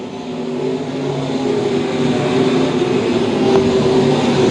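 B-Mod dirt-track race cars roaring around the Lakeside oval, a loud sustained engine drone that swells slightly as the pack passes, steady throughout with no talk over it.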